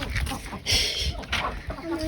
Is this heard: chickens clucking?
yes